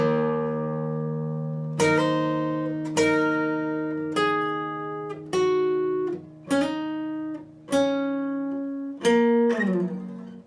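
Slow electric guitar line from a song's verse, seven clean picked notes and chords ringing out one after another at an unhurried pace, each decaying before the next, with no voice over it.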